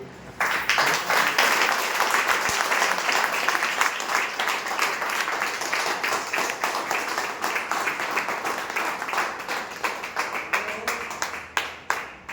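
An audience at a business strategy seminar claps continuously, a dense and fairly loud wash of hand claps that holds steady for several seconds before thinning toward the end.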